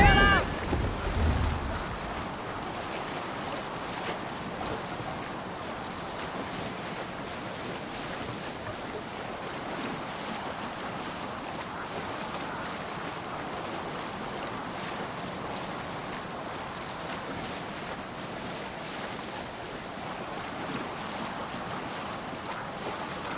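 Viking longship under sail in the Assassin's Creed Valhalla video game, a steady wash of wind and waves at sea with a brief louder burst at the start.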